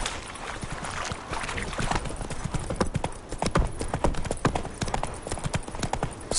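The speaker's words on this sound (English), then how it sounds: "Run, Roach" Hoofbeats of a galloping horse in The Witcher video game, rapid rhythmic clip-clop thuds close and loud throughout, with faint speech underneath.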